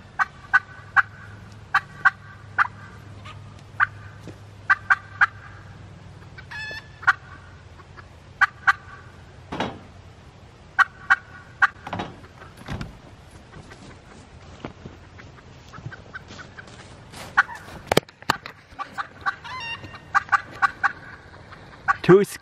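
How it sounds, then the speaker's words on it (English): Turkeys gobble repeatedly inside a chicken coop, short sharp bursts recurring every second or two at moderate distance, with occasional clucks and thumps between calls and no speech. "That's why the turkeys are acting all weird."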